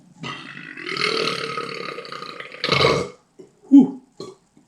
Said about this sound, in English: it's going down smoothly and quickly enough to make me burp up the whole fucking can at once